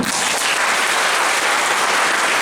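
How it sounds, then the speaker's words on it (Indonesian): An audience at a Qur'an-themed talk bursts into dense, steady applause, loud and close, with many hands clapping continuously and no talk over it. "Boleh tepuk tangan."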